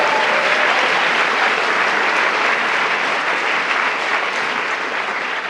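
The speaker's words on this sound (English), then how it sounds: "let's applaud them anyway, even though they've gone" An audience at a London gathering applauds the volunteers who ran the show, with dense, steady clapping that fills the whole stretch at full strength before tapering slightly toward the end.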